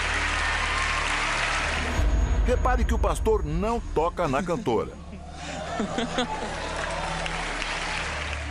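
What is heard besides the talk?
church audience applause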